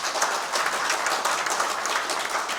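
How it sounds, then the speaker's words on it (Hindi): Applause from a seminar audience, a dense and steady wash of many hands clapping that stays loud and even throughout, with no voices rising above it. "तो स्वामी विवेकानंद जी के लिए जोरदार ताली बजा दो भाई।"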